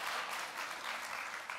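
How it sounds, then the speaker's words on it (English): An audience at a book release and conversation event breaks into applause. The clapping is steady and dense, heard from a little distance, and keeps going at an even level for the whole of the short stretch. "Yeah, I do deserve an applause."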